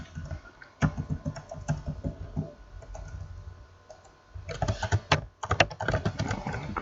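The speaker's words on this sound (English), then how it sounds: "What is up with my typing today?" Fingers type on a computer keyboard in irregular bursts of close, crisp key clicks, with a short pause before a quicker flurry of keystrokes toward the end.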